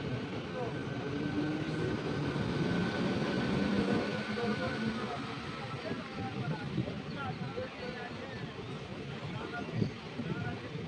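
A Kharagpur–Howrah local train pulls out of Jakpur station at night, a steady low rumble of wheels and carriage noise with rattling clatter, heard from inside with people talking over it.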